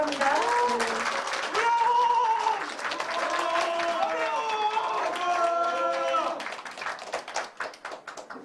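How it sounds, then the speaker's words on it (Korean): A crowd claps steadily at a party meeting with merchants at a market in Uijeongbu, welcoming presidential hopeful Hong Joon-pyo. Voices and tonal sounds run over the clapping, which thins to scattered claps near the end. "큰 박수로 환영해 주시기 바랍니다."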